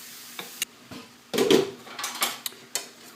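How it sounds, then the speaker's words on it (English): Okra is stirred in a pan with a utensil and a lid is set on top, giving a series of light metallic clinks and scrapes with one louder clatter in the middle. "So these things will get mixed up, and then I'll put a lid on it"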